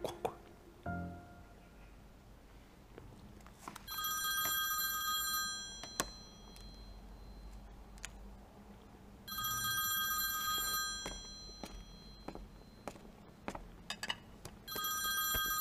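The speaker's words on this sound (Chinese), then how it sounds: "你电话。" A telephone rings indoors in two bright bursts separated by a quiet stretch, with small clicks and faint sounds in between.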